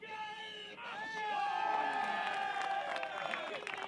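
Spectators at a 1995 motorcycle race roar and cheer, a swelling mass of shouts and whoops that builds after a brief dip and stays loud, with scattered applause mixed in.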